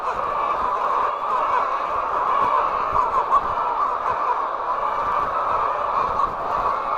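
A crowded flock of chickens clamours before feeding, a dense continuous chorus of clucking and squawking at steady loudness throughout.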